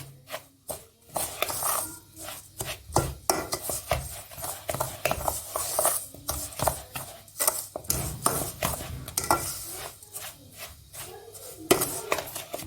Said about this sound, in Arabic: اللي هو ايه السمنه مع البسبوسه هنقلبهم قوي